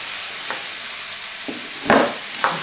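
Pork chops brown in a hot pan with a steady sizzle, while a few sharp scrapes and clatters mark them being pushed around with a utensil.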